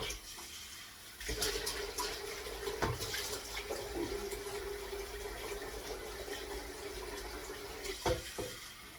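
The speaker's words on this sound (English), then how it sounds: "Get some water in this kettle." Tap water runs into a Ninja kettle, a loud steady gushing splash that starts after a second, continues for several seconds and stops with a few clunks near the end.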